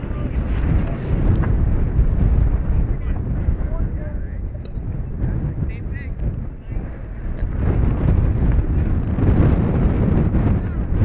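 Wind at an outdoor high school baseball game between NCCS and AuSable Valley: a loud, constant roaring rumble of gusts buffeting the microphone, swelling and easing throughout.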